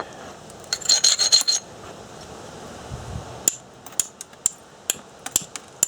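A stone point being abraded and trimmed during flintknapping, with a short burst of rasping scrapes followed by a series of sharp, isolated clicks and taps, close and clear.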